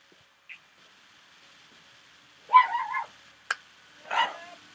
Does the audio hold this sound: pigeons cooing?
no